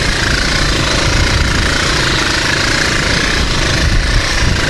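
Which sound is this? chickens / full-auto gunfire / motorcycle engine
motorcycle engine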